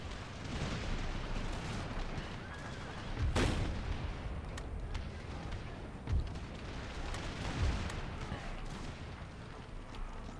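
Musket volleys and artillery fire from an Empire Total War battle (Empire 2 mod, 13 Colonies campaign, fight in Texas) roll in as a dense, continuous din, punctuated by a few louder booms rising out of the roar.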